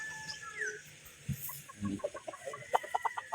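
A Boston Gray stag, a young gamefowl rooster on a game farm, gives a quick run of short, clipped clucks that grow denser toward the end, heard nearby over faint background noise.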